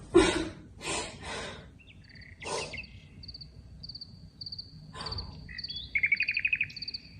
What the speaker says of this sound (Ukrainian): в Матвієвому садочку соловейко співає.